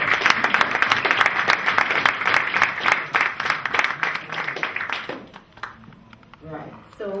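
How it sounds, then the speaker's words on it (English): An audience claps at a 2014 fundraising dinner, a loud, dense burst of many hands that fades after about five seconds, followed by a voice speaking. "So I want you all to give yourselves a round of applause and to say thank you for coming."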